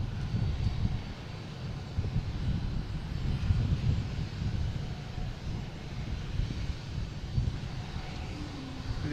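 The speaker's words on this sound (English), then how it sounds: "We got a JetBlue behind it coming in from Nantucket, A220." JetBlue Airbus A220 coming in to land at Boston Logan airport, a low, distant, rumbling jet engine drone heard steadily with wind-like background noise and no talking.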